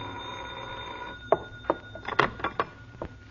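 A telephone in a radio drama rings with a few sharp, bright bell rings after a quiet stretch, close and clear, with no one speaking.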